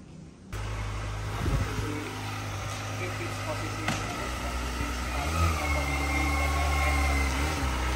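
A Kawasaki ZX25R motorcycle engine idling, a steady close rumble that starts abruptly after a short quiet moment and holds with slight wavering in pitch, faint chatter beneath it.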